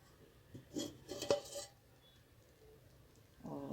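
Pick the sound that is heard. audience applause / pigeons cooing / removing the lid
removing the lid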